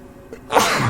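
A person sneezes once during gameplay: a short sharp intake followed by a loud, bursting sneeze close to the microphone.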